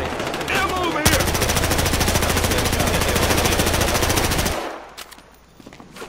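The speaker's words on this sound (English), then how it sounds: "I want to try shooting that prop of a fake car." Automatic gunfire in the Battlefield Hardline video game, a loud sustained burst of rapid shots lasting a few seconds before cutting off and leaving quieter game ambience behind.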